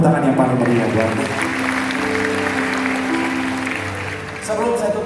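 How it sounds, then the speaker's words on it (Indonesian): A church congregation applauding, a dense sustained roar of clapping from a large crowd, loud and continuous throughout with voices mixed in underneath. "Tepuk tangan yang paling meriah buat Tuhan"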